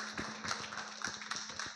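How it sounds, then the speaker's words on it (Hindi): A church congregation claps together during a sermon: a dense, continuous patter of many overlapping hand claps at moderate loudness, with a steady low hum beneath and no voices. "ताली बजाओ जोर से।"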